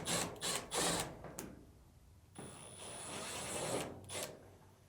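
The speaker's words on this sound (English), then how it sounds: "First, we need to get access to the back of the dryer to remove the two screws holding on the top cover." Short bursts of a power drill or driver backing screws out of the top cover on a Samsung dryer, several whirring spurts in quick succession, then a longer steady whine with a thin high tone, close and moderately loud.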